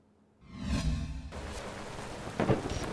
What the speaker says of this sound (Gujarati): મેઘો મુશળધાર, ઉત્તરથી દક્ષિણ અનરાધાર, ગુજરાત બન્યું પાણીદાર।